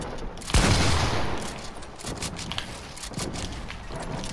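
Gunfire cracks in a video game, starting with a loud close shot and followed by a scattered run of rapid shots and mechanical clatter.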